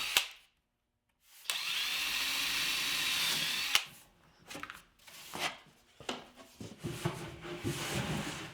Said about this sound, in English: Now I can reach into the drawer with my drill and countersink the hole.